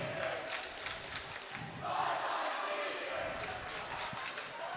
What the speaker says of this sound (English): Darien, the crowd getting as loud as ever.